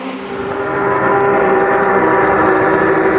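Race cars, Porsches among them, lap the Nogaro circuit in a bunched field, their engine roar swelling over the first second into a loud, sustained, droning pass with no voices.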